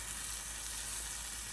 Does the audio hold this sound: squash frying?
yes